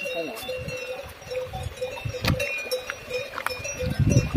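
Cows wearing cowbells in Valais, Switzerland, with scattered clanking bell rings near and far and a faint ringing tone, under quiet talk and outdoor rustling.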